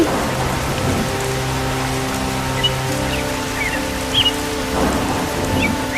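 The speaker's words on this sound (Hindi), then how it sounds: "न जाने इस बारिश में ऐसा क्या है, रुकने का तो नाम ही नहीं ले रहा है।" Heavy rain pours steadily, with low thunder rumbling faintly underneath throughout.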